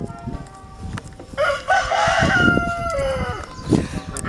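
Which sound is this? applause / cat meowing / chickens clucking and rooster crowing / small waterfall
chickens clucking and rooster crowing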